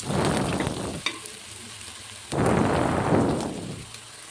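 Onions frying in a pan as the base for a korameenu fish curry, with bursts of loud close sizzling and stirring, a brief quieter gap, then another strong surge of frying hiss.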